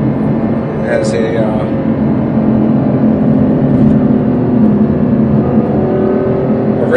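Ferrari GTC4 Lusso with a 690-horsepower 12-cylinder engine, heard as a steady loud engine drone with a rising rev near the start, while someone talks over it throughout.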